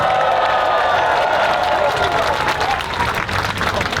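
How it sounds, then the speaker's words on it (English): A large crowd at an Andrew Yang campaign rally in Philadelphia applauds and cheers loudly, with a dense roar of clapping and voices that eases slightly toward the end. "Let's give them a round of applause."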